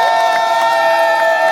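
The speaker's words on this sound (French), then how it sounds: "je voulais vous demander tous d'applaudir très fort le général Charles Blé Goudé" Loud crowd at a political rally in Côte d'Ivoire cheering and shouting continuously, a sustained roar with whoops rising above it.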